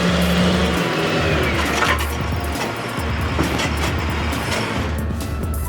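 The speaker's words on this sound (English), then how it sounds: "Listen to that engine roar." A Caterpillar Cat 988B wheel loader working at a marble quarry, its heavy diesel engine roaring steadily and close, with deep low rumble and clattering mechanical noise throughout.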